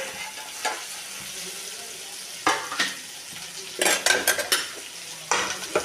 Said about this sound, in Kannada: ಇವಾಗ ಸ್ವಲ್ಪ ಎಣ್ಣೆಯಾಗ ಮೇಲೆ ಸ್ವಲ್ಪ ಫ್ರೈ ಆಗಲಿ